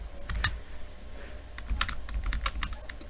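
Keys clatter on a computer keyboard as a COUNTIFS formula is typed into an Excel spreadsheet, with quick, close, irregular bursts of clicks and no talking.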